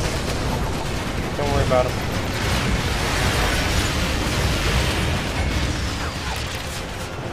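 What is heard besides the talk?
air strike explosions in the video game Renegade Ops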